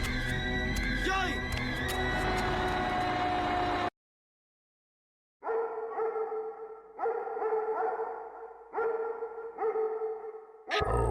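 A dog barks in the video game Injection Pi23, several sharp barks in quick bursts after a loud stretch and a brief silence, fairly close and prominent against a dark, droning game soundscape.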